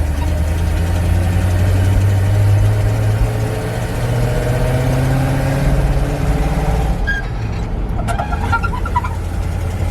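An old Chevy tow truck engine runs steadily for the whole stretch, a loud, close, rough mid-pitched drone with a low rumble and some knocking, and it shifts near the end with a few clicks and rattles. No one speaks.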